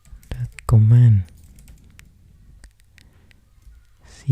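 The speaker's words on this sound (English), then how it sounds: "right now we just type all this" Keystrokes on a computer keyboard while Go code is written, a quiet scattering of light clicks between two louder bursts of a voice talking nearby.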